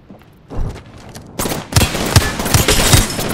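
Gunfire strikes the player in Apex Legends, starting as faint shots and growing into a loud, sustained barrage punctuated by heavy, regular thuds.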